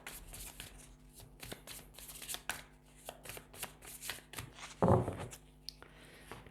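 Tarot cards being shuffled by hand, a rapid run of crisp riffling flutters and soft slaps close up, with one louder thump near the end; quiet otherwise, no talk.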